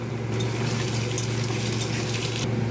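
Onion and potato frying together in a pan, a dense continuous sizzling hiss close up, steady and loud throughout with no talk.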